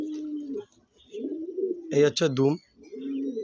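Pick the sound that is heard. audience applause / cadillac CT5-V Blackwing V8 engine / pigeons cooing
pigeons cooing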